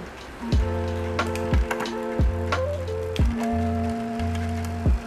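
Bicycle chain ticking on a rear sprocket with a SRAM eTap rear derailleur, a series of sharp clicks and knocks over a steady mechanical hum, close up and without talk.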